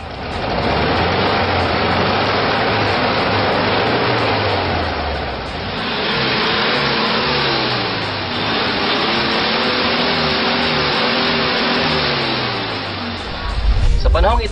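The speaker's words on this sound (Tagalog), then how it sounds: "Yan po ang tunog ng ating 40-year-old na makina, untreated po ng GT oil." A 40-year-old car engine, untreated with oil additive, idles with a rough, steady rumble and a slight rhythmic lope, close and loud, briefly dipping and revving near the end.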